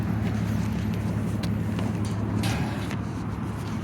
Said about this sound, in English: A lot of traffic noise, right?